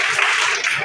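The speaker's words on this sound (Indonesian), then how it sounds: "Tepuk tangan untuk Ulan." Classroom applause for a student, a short, dense burst of many hands clapping at once, close and fairly loud, with no talking over it.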